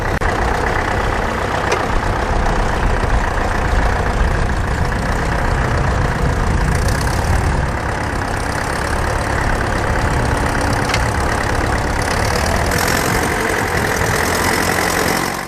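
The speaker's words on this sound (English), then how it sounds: "we thought we'd try the 634 on this mole plough" An International 634 tractor works a mole plough in the land drainage area at Carrington Rally, its diesel engine droning loud and steady throughout with no talk.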